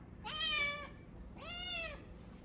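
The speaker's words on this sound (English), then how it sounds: "This is Binks, our little noisy kitty." A pet cat named Binks gives two clear, drawn-out meows close by, each lasting about half a second, separated by a short quiet gap.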